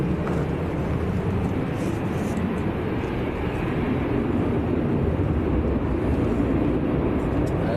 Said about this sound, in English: We've got the Finnair to Helsinki A320.